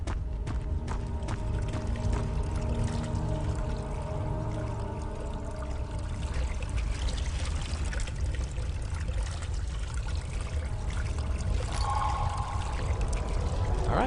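Liquid pours steadily into a pot in Amnesia: The Dark Descent, a continuous trickling stream that runs for the whole stretch alongside game ambience.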